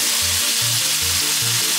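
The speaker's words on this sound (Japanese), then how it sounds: "この要領でお肉たち全部焼いていきます" Pork slices for ginger pork sizzle and fry in a pan, a loud, steady crackle with a few rhythmic low scraping strokes as the meat is moved.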